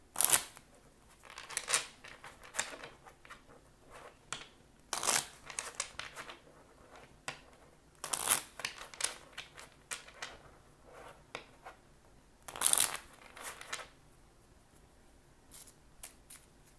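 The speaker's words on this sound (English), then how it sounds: "And then shuffling." Tarot cards being shuffled by hand, heard as soft, intermittent papery riffles and flicks with a few sharper snaps, close by and fairly quiet with pauses between bursts.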